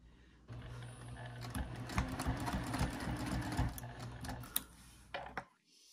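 Sewing machine stitching a quarter-inch seam on a small zipper coin and card pouch, a close, continuous mechanical whir with rapid needle ticking that stops abruptly at the end.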